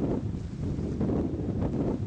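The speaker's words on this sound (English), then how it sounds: "50 knots of wind!" Fierce 50-knot wind during a Red Sea sandstorm at an anchorage off southern Eritrea, a continuous loud roaring rush buffeting the microphone with no letup.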